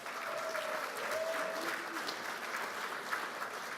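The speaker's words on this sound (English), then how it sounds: "So give yourselves another round of applause." A gala audience at a leadership celebration claps steadily, a faint, distant wash of applause with no voices over it.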